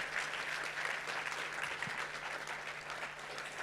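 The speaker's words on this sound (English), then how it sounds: "Big round of applause once again." A festival keynote audience applauds continuously in a dense, even wash of clapping that holds loud from start to end, with a faint steady hum beneath.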